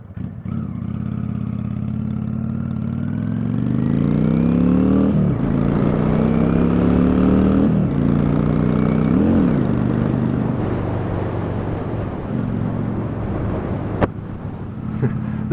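A carbureted bobber motorcycle engine runs loudly and close, with a rough, throbbing note that climbs and falls through several rev changes, against steady wind rush over the microphone.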